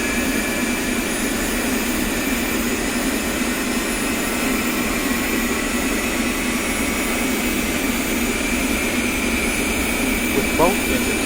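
Twin engines of an A-10C Warthog idling in the DCS flight simulator, a steady loud whine and roar holding constant throughout with no change in level.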